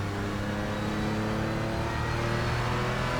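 Porsche Cayman GT4 engine in iRacing at Sonoma, droning steadily and close with a constant whirring tone, no talk over it.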